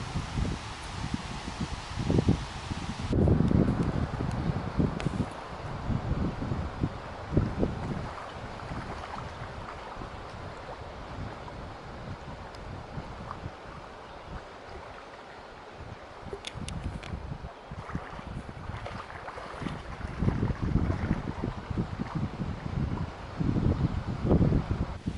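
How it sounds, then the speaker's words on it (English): Stiff wind blows across a trail in Wisconsin, buffeting the microphone in loud, uneven gusts with rustling in between, rising and easing over the whole stretch. "71 degrees, beautiful day, sunny, pretty stiff wind, keeping the bugs off of us."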